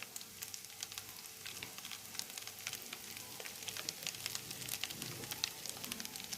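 Drumstick pieces fry in oil with ginger garlic paste and a pinch of turmeric, giving a steady, dense sizzle with crackles and pops close by, no talking.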